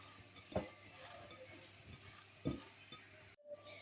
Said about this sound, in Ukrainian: І перемішаю. Перемішаю так, щоб було добре перемішане.